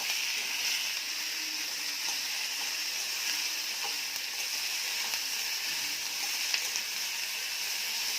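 Chopped snake gourd fries in a pan over a medium gas flame, giving a steady, even sizzle and hiss that holds without break, with a few faint clicks of stirring.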